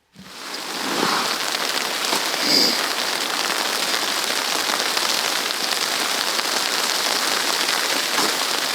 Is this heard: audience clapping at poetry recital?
no